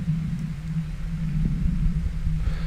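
Two noise oscillators run through low pass and band pass filters, producing a steady low rumbling hiss with a droning hum underneath, continuous and fairly loud throughout.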